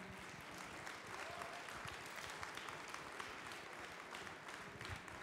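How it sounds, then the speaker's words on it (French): Audience at a cooking show event applauding, a dense, even roar of many hands clapping, heard at low level and sustained throughout without clear breaks. "On peut l'applaudir, Philippe Olivier."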